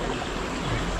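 Irrigation water flows steadily in a countryside channel near ducks, a continuous close rushing and gurgling wash with no break.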